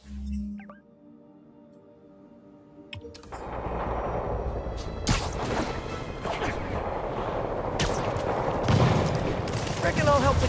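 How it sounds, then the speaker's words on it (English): Gunfire crackles in the Spider-Man video game as demons fire on a position, starting after a quiet stretch with radio-style voices and building into dense, sustained bursts and shots under continuous game noise. "Demons firing on our position."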